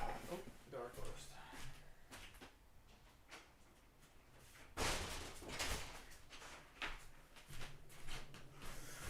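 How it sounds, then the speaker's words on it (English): Door closing with a solid thump partway through, amid handling clatter and mechanical knocks, with people talking around it. "Door closed."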